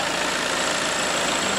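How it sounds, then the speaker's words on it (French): A VW Tiguan 2.0 TDI diesel engine idles steadily during a DPF cleaning, heard as a dense, even mechanical hum and clatter at close range with no voices. "Le moteur reste vraiment allumé jusqu'à la fin"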